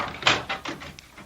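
A door is unlocked and opened in a radio drama: a quick run of close clicks and wooden knocks, with a lock rattle and latch thumps spaced a few tenths of a second apart.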